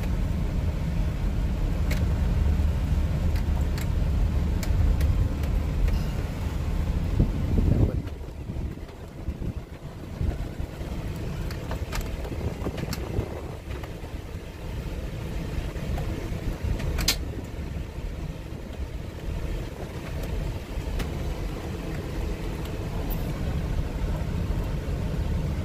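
Car driving laps on a practice racetrack on a Texas farm, a steady broadband engine and road roar with heavy wind buffeting throughout, loud and continuous, easing slightly partway through.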